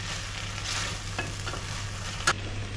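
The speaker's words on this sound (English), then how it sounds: "we're going to put our beer in and bubble it" Onions and beer bubble in a hot pan, giving a steady close sizzle with a few soft stirring knocks and one sharper clink near the end.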